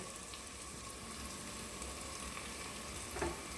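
Chilli powder, garam masala and coriander powder frying in a pan for a potato and brinjal curry give a soft, even sizzle that runs the whole time, with a faint scrape of stirring near the end.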